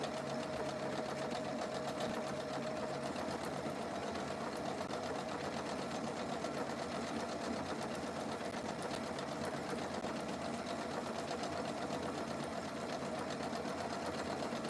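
A sewing machine stitches rickrack trim onto a Christmas tea towel, running in one steady, smooth, continuous drone from start to finish with no pauses and no talking.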